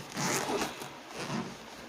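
A zipper is pulled along a hard-shell diamond painting storage case with a rubber handle, giving a close, quiet rasping run of a couple of strokes lasting just under two seconds.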